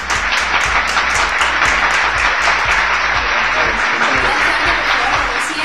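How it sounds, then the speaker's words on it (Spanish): Audience applause at a university management show, a loud, continuous wash of clapping with some sharper individual claps standing out, lasting the whole stretch. "Por favor, todos un aplauso."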